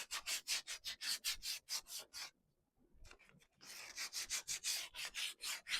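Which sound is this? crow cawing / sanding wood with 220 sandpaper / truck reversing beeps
sanding wood with 220 sandpaper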